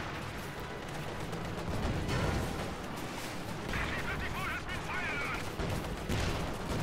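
Soviet T-34 tanks fire amid battle in Company of Heroes 2, dense overlapping gunfire and explosion-like booms forming a continuous rumbling barrage with sharper cracks, fairly loud throughout.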